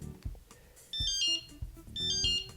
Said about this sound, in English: It'll give a few beeps.